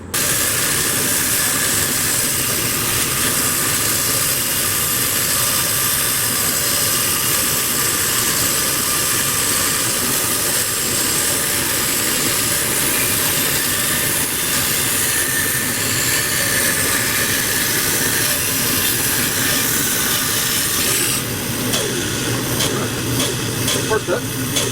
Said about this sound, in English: now I just got to cut these circles out on the bandsaw